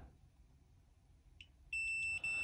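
A multimeter in continuity mode gives a steady high-pitched beep, briefly interrupted once, as its probes touch a fuse on a PS5 motherboard, loud against a quiet background.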